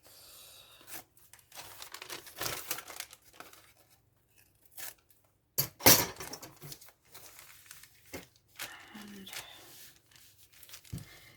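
Paper cut straight across with scissors while making a junk journal, heard as soft, scratchy, crinkling and tearing-like cuts in short bursts with one sharper snap, close and fairly quiet.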